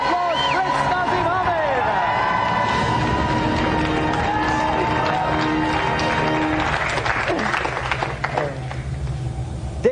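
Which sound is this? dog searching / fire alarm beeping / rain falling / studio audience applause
studio audience applause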